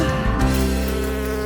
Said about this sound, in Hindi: ओह, मधुमक्खी, तुम्हारी यहाँ जरूरत नहीं है।